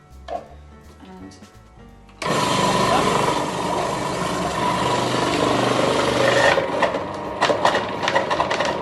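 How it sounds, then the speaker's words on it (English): A Magimix food processor grates two carrots. The motor starts abruptly and holds a loud, steady whirring grind for several seconds, with quieter clattering before and after. "I've got my trusty Magimix here at the ready, and I am going to grate some carrots first"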